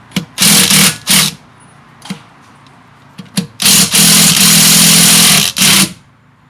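A cheap power tool from an Amazon tool box loosens tight nuts, running in loud whirring bursts of differing length close by, stopping and starting with quiet gaps between.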